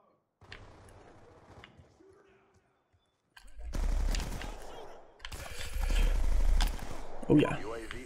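In Black Ops 2, bursts of automatic machine gun fire rattle in loud, rapid runs lasting a second or more. Someone talks in between the volleys.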